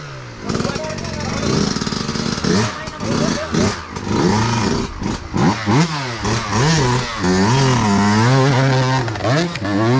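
A motorcycle engine revs repeatedly on a riverside trail ride, its pitch rising and falling in loud, wavering surges that continue for most of the stretch.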